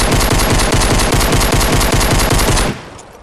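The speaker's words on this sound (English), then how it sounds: "Let's try trigger finger with a legendary suppressed pistol with the add-on" A legendary suppressed pistol with an add-on fires in a video game: a loud, rapid, unbroken stream of shots lasting nearly three seconds, then cutting off sharply into a fading tail.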